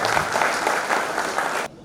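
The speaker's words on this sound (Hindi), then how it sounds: "मुझे जोरदार तालियां।" A hall audience at a community programme in Betul breaks into loud, dense applause that fills the space for under two seconds, then cuts off abruptly.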